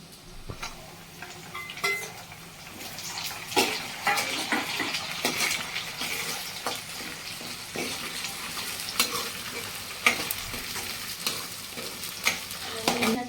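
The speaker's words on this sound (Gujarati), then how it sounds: "ડુંગળી થોડીક ગોલ્ડન બ્રાઉન થઈ ગઈ છે તમે ટમેટાને એમાં નાખી દો" Tomatoes fry in a pan with golden brown onions, a close, steady sizzle broken by repeated spoon scrapes and clinks against the pan as the mixture is stirred, with no voices.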